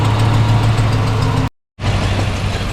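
A loud engine idles with a rough, puffing exhaust tick from an exhaust flange leak at newly installed JBA headers, ticking rapidly throughout, cutting out briefly before resuming.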